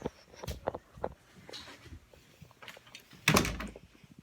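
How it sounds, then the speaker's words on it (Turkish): An indoor door swings shut with a sharp thud near the end, preceded by faint soft handling noises and movement in a quiet room. "Dur önce kapıyı kapatayım bari."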